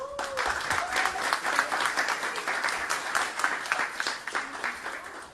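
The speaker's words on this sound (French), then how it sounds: "si vous pouvez applaudir Carla Beauvais" Audience at the Hoodstock 2018 event applauding Carla Beauvais, a sustained spread of many hands clapping at moderate distance, with faint voices mixed in.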